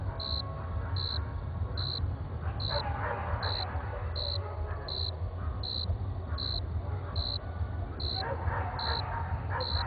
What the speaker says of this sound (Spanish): los perros ladre y ladre